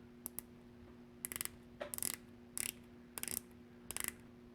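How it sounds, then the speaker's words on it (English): Clicking of the rotating bezel on a Glycine Combat Chronograph watch, six short bursts of rapid, crisp ratcheting clicks, close and distinct over a faint steady hum. "Bezel action is quite good. Again, 60 clicks. The clicks are very audible and precise."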